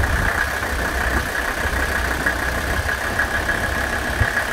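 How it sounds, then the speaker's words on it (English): Mercedes OM617 diesel engine idling steadily after a fuel-injector cleaning treatment, a continuous close rumble with a droning mid-range tone and no voices. "Let's crank this thing up"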